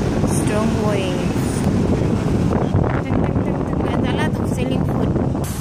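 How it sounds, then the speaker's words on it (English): Strong wind buffets the microphone at a Malaysian seaside, with a steady broadband roar of waves and gusts throughout and people talking nearby over it. "very strong wind and very strong wave"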